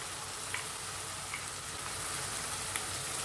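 Minced chicken sizzles steadily in a hot pan, a dense continuous frying hiss with a few faint clicks of stirring, no voices.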